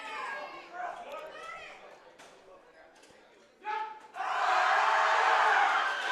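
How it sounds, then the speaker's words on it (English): A crowd cheers and shouts for a female lifter's third squat attempt at a high school powerlifting national meet. Scattered voices come first, then a loud, sustained roar bursts in and holds to the end. "Got a lot of support from the crowd."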